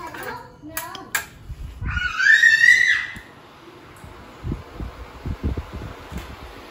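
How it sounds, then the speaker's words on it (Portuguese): An electric fan switches on with a brief rising whine, then settles into a steady, soft whooshing hum that runs to the end, with a few faint knocks and a voice briefly at the start. "eu vou ligar o ventilador"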